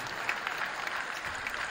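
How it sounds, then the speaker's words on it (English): A crowd applauds at a community sports event, a brief, even wash of clapping at moderate volume with no pauses. "give Cardick and give Akron Trump Supply a big round of applause"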